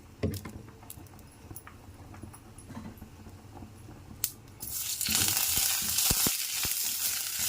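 Quiet clinks and scrapes give way to a loud, steady sizzle of tempering seeds and two dried red chilies frying in a little hot oil, with a few sharp pops near the end.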